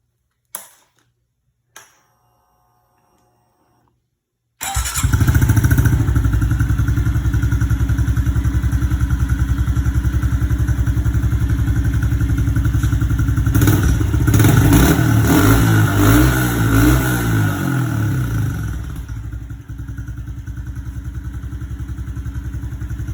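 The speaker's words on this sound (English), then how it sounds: "we'll go ahead and start it up for you real quick." A Honda CRF110 dirt bike with an airbox mod and RAD intake tube gives a couple of sharp clicks, then starts and idles loudly with a buzzy, steady engine note that rises in brief revs before settling.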